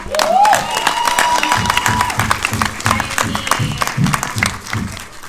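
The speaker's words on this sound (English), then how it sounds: "can we please give a round of applause" Audience applause at a movie screening Q&A for Drugstore June, steady massed clapping with some cheering through the whole stretch, fairly loud and full, while a voice briefly carries over the start.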